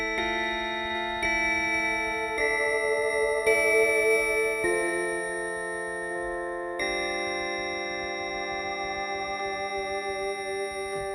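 Sustained synthesizer chords from Absynth's Obsidian sound library, with a buzzy, slightly gritty analog-style tone, shifting through several held notes and pitch changes over a steady low bed, no voices.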